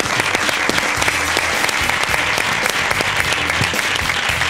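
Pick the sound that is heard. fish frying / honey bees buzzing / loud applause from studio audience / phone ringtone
loud applause from studio audience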